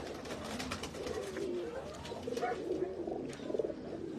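Breeder pigeons from a loft coo in low, soft repeated calls, several overlapping close by, with a few brief brighter chirps and a steady background hiss.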